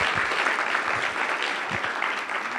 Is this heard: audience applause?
yes